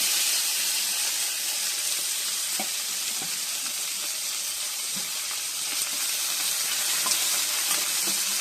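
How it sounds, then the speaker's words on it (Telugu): Cluster bean pieces hit a pan of hot oil tempering, giving a steady, loud sizzle and frying hiss throughout, with a few faint stirring clicks and no talk. "ఈ ముక్కల్ని ఇలా పోపు వేసి అందులో ఇలా వేసేసి"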